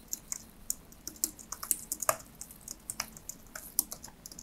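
Fingers typing a report title on a computer keyboard, a soft, irregular run of close key clicks with small pauses, no talking.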